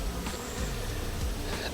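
Honeybees from a three-story hive that has just been moved outdoors buzz steadily throughout, a close, continuous insect drone with a few louder passes near the ear.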